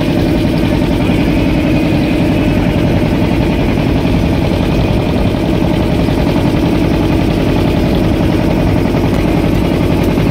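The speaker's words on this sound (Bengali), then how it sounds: "নৌকাটা অনেক বড় এবং ইঞ্জিনটাও শক্তিশালী ইঞ্জিন।" A loud, steady engine of a large boat drones and chugs continuously at close range, rough and unchanging, with no talking.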